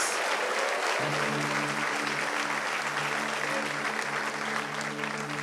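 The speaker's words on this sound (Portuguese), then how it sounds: "nós vamos dar uma linda salva de palmas para Jesus" Church congregation applauding during a worship service, a thick, continuous wash of clapping from many hands that stays loud and steady throughout, with a sustained musical tone entering beneath after a second.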